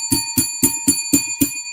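A small bell struck six times in quick, even succession, each a bright ringing ding with a short decay, close and loud.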